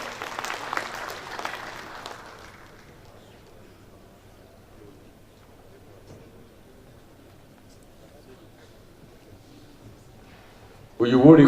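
Audience applause at the opening ceremony of the 2018 Nigerian Institute of Building builders' conference and AGM, a brief burst of clapping that fades within a few seconds into a quiet hall, ending with a sudden loud noise.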